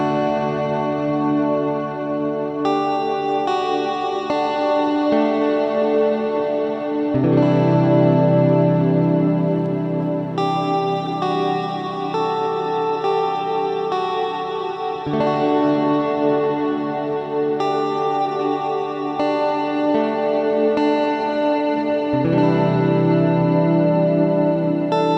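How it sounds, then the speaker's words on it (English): Sustained layered synth tones wash through a long, spacey Eventide Blackhole reverb with pitch-shifted shimmer and the echo turned up, swelling and shifting in chords over about twenty-five seconds. "Cranking the echo up creates a very long, drawn-out, spacey reverb"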